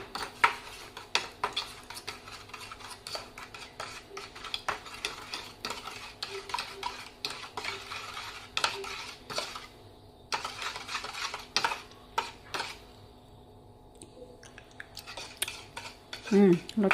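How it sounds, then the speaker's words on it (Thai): A spoon stirring Thai dipping sauce with lime juice in a bowl produces rapid, repeated clinks and scrapes against the dish, close and busy, pausing briefly near the end before resuming, with no talking. "หนึ่งช้อน คนทุกอย่างให้เข้ากันก่อน"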